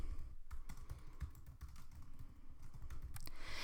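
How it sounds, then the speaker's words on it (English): Fast, steady typing on a computer keyboard, quiet and close, with continuous clicking keystrokes throughout and no voices. "I can type whatever I want."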